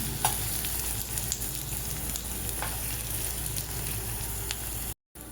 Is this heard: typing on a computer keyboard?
no